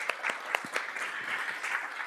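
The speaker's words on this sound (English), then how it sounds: "Maybe we'll give them applause," Audience applause at a nonprofit storytelling workshop in Kansas: a steady, dense wash of many hands clapping, fairly close and even throughout, with a few sharper individual claps standing out.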